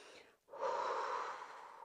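A single steady breath out during a Pilates exercise, close and breathy, following a brief pause after a softer preceding breath.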